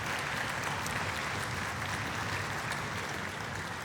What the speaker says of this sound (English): two more rounds of applause for those two special teachers